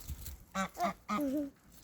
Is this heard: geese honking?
yes